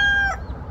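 A single short cluck or crow-like call from a chicken or a Royal Palm turkey free ranging with the flock, close and fairly loud, then fading into quiet outdoor background.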